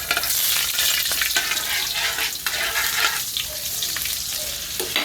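Marinated chicken hitting a hot pan sizzles loudly and continuously up close, a dense frying hiss with occasional stirring scrapes and no talking.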